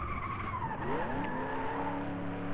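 A car in the Flatout 2 racing game drifts through a corner, its tires squealing in a sustained skid as the engine pitch slides downward, loud and close.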